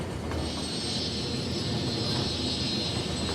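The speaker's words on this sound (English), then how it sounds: "Oh, do I hear another plane? Yes, we have another plane. And there it lands again." A steady aircraft engine roar with a high whine, continuous and fairly loud throughout, like a plane passing close overhead as it comes in to land, in the video game Cities Skylines.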